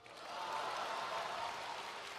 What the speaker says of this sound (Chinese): 可以鼓掌啦。